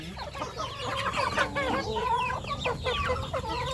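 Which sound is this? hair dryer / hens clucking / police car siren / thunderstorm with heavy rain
hens clucking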